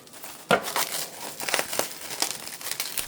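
Someone wrestles open a package sealed in tape: close, busy crinkling and crumpling of wrapping with tearing bursts and a sharp rip near the start, continuing in irregular rustles throughout.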